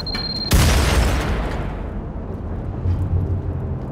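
A single loud grenade blast bursts out in a video game firefight, a sudden boom that decays into a long rumbling tail, with no talk over it.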